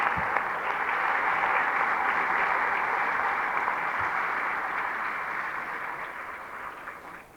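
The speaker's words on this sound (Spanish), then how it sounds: "Démosle un aplauso al Señor" A church congregation applauds with dense, sustained clapping that stays strong, then gradually fades toward the end.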